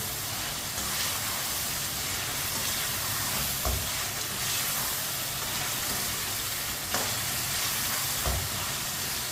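Half-boiled fried potatoes are stirred and cooked in a pan for aloo palak, giving a constant loud sizzle and hiss with a few scraping thumps of the spoon, close up and without speech.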